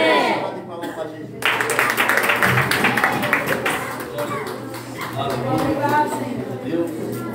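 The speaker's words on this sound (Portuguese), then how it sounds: "Salva de palmas para Jesus." A church congregation bursts into applause after a brief pause, a loud burst of many hands clapping that carries on with shouts and voices over it.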